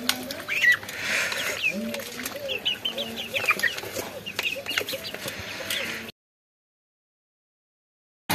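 Chickens cluck repeatedly while pecking at puffed rice, including one white hen eating fallen pieces below, with bursts of calls over a busy farmyard before a short silence near the end.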